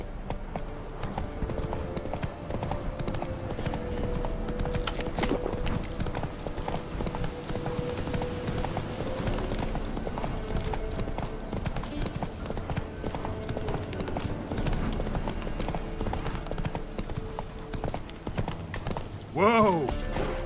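Roach, the horse in The Witcher 3, gallops with steady, loud clip-clop hoofbeats throughout, and a short whinny or exclamation comes near the end.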